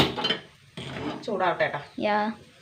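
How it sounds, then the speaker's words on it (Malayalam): A cooking pan is set down on the stove with a brief metallic clank, amid a person's talk. "ചട്ടി വെക്കുക"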